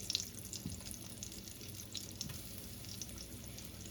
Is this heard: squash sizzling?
yes